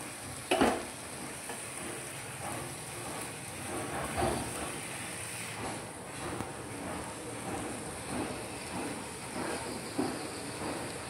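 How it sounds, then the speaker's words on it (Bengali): Spinach and prawns sizzling in a pan as they are stirred, a steady close hiss with occasional scraping knocks from the spoon. "একটু নাড়াচাড়া করে জল দিয়ে দেবো"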